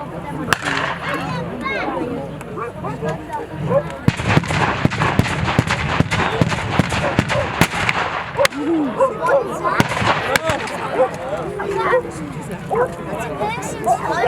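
A WW2 re-enactment battle with mortar and gun fire, sharp bangs and cracks going off irregularly throughout, some close and loud, some more distant, under a crowd murmur and people talking.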